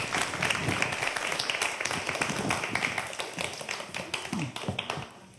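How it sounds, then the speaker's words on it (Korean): An audience claps to welcome a speaker onto the stage at a lecture, with a close, dense round of applause that thins out into scattered individual claps before fading at the end. "박수로 맞아주시기 바랍니다."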